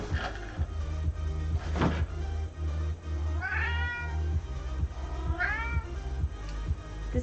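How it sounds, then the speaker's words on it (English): A cat meows twice, close and clear, each a short rising-then-falling call a couple of seconds apart, over low background thumps and rustling indoors. "This cat."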